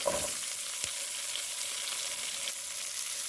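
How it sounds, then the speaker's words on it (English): Garlic cloves, onion and tomato are tossed into a hot pan of melted fat for a Jamaican-style steamed fish dish, bringing a near, steady sizzle with a few light clinks and no speech. "So I am going to go ahead now and toss my garlic in, my garlic cloves, onion"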